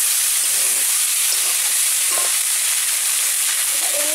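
Water poured into a hot pan hisses and sizzles loudly and steadily, close by, with faint stirring clicks while a Bengali village lunch of vegetables and greens cooks.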